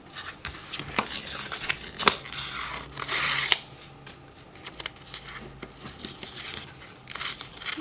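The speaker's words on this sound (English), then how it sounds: "We have those edging scissors, you know, those kids' edge scissors." Edging scissors snip through paper for a handmade planner, with crisp intermittent cuts, rustling and crinkling close by, a longer burst of cutting partway through, and no talking.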